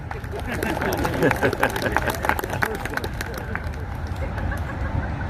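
A large outdoor crowd at a Great Lakes timber show applauds and cheers, steady clapping and crowd hubbub filling the whole stretch at a fairly loud, even level.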